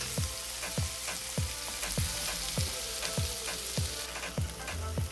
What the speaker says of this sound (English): I'm going to saute this like 3 to 5 minutes and come right back.